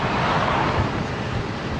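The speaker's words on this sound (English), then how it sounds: "The wind is working me hard" Steady, broadband wind rushes across the microphone of a cyclist riding along Old Atascocita Road, forming a dense, continuous roar with no break and no talk.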